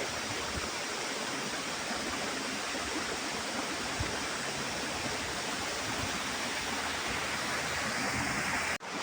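Secret Ella waterfall in Sri Lanka, heard from its top, roars as a constant dense rush of falling water, even and unbroken from start to finish.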